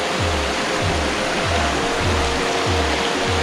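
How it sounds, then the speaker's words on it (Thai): Strong water pours at Krok I Dok waterfall in Khao Yai National Park, a loud, continuous close-up rush with faint low pulsing surges recurring about every second. "น้ำไหลแรงมาก"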